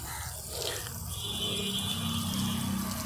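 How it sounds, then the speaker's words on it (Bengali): Water pouring steadily into a tub of dry coco peat, a continuous close splashing and trickling stream with no voices over it. "এইভাবে পুরো জল দিয়ে গামলাটি আমি ভর্তি করে দেব"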